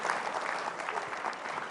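An audience at a talk on leadership breaks into applause, dense steady clapping from a crowd lasting the whole moment, moderately loud, with no voices over it.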